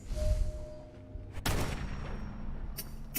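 Gunfire and a heavy blast ring out in Fallout 4 combat, a sharp boom followed by a decaying rumble and a couple of quick shots near the end.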